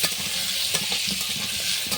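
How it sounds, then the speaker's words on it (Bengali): Frying in hot oil with a little salt and turmeric makes a busy, close sizzle broken by scraping stirs and small knocks of the spatula. "চলো তাহলে এবার এটা তেলে দিয়ে দিয়ে ভেজে নিই।"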